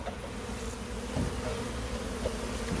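A dense, steady buzzing of many honeybees fills the air, continuous and close, with a few louder swells as individual bees pass near.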